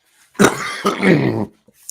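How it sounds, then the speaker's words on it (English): A single harsh, throaty cough burst, close and fairly loud, broken into two rough pulses, then silence. "There was no way out of that cough."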